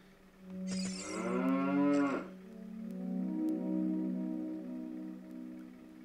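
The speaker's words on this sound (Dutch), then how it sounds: "Ik hoor hier een koe. En dat komt omdat hier een koe staat." A cow moos loudly in the video game The Legend of Zelda: Ocarina of Time, a single drawn-out low call standing alone over steady background game music.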